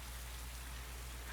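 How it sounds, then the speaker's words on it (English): Steady rain patters on a surface as a constant faint wash of hiss, even and unbroken throughout. "How long has it been raining?"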